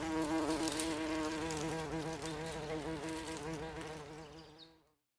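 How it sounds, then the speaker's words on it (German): A bumblebee buzzes steadily with a rich, droning hum that holds close and fairly constant for several seconds, then cuts off abruptly. "Nein, das ist eine Hummel."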